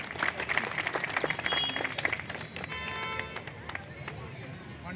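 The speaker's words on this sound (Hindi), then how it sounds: "जोरदार तालियां इनके लिए" A crowd at a BSP political gathering claps steadily for an honoured guest while a speaker's voice carries over the applause. The clapping fades after a few seconds.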